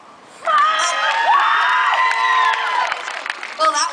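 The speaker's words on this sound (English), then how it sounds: "give it your best whooping and cheering, get everyone fired up, get a huge round of applause" A live crowd gathered at Federation Square whoops and cheers loudly in a sustained burst of shrill shouts and excited voices, swelling after a brief quiet start and carrying on for several seconds with scattered clapping.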